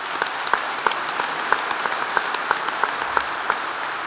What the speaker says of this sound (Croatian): Aplaudirali su oni koji su vjerovatno i uposleni.